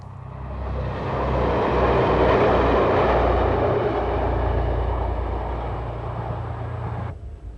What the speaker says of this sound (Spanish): Entre sus trenes diésel destaca este automotor único de 35 años de antigüedad construido por OM.